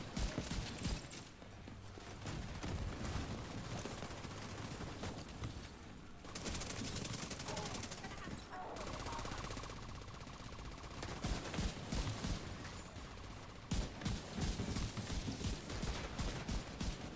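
Heavy, continuous M1A1 rifle fire in The Division 2 shooter game, with loud rapid bursts from more than one gun layered over game noise and brief pauses between volleys.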